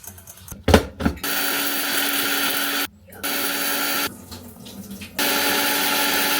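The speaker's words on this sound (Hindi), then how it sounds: "ये पूरे मसाले को पीसना है एंड देन उसके बाद हरी मिर्च भी पीसनी है थोड़ा सा पानी डाल के" A mixer grinder runs loud and steady, grinding whole spices and green chilies with a little water, with brief pauses and restarts between bursts of harsh whirring.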